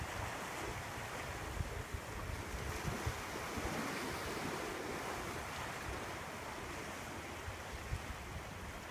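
Steady, strong wind at the seaside in Nice on a sunny November day, roaring continuously with surf-like wash underneath, close and unbroken for the whole stretch, with no talking.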